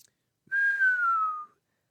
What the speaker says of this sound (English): Ralph whistled as he rode over to the horseless Eli